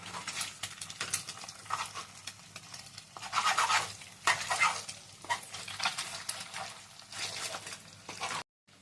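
A spatula scrapes and chops fried egg into small pieces in a pan, giving repeated clattering strokes in uneven bursts over a faint sizzle. The sound cuts out briefly near the end.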